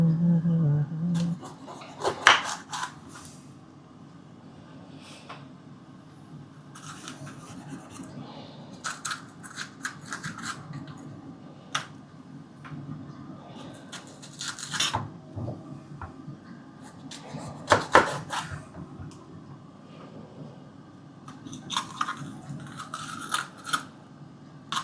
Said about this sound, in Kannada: ಸೊ ಇದು ಉದ್ದುದ ಸ್ಟ್ರೈಪ್ಸ್ ಕಟ್ ಮಾಡ್ತಿದ್ದೀನಿ